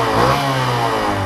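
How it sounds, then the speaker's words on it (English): A 2014 Honda Grom motorcycle on its stock exhaust, revved briefly: a close, fairly quiet single-cylinder engine note that blips up and settles back within about a second. "I'll start it up for some revs really quick with the stock exhaust on it"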